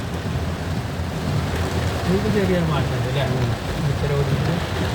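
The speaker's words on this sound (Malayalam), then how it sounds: "ഇതാണ് അവസ്ഥ നല്ല മഴയാണ്" Dense, steady rain hisses loudly throughout, with a voice talking under the downpour partway through.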